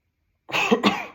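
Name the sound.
cough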